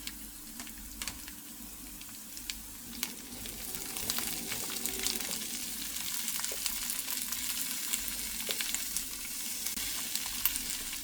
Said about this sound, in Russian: Друзья, сейчас прожарим перец минут 10.